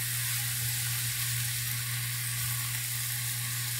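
Rice noodles with vegetables sizzle steadily in a hot pan as they are stirred, a continuous close frying hiss with a low hum underneath and no talking.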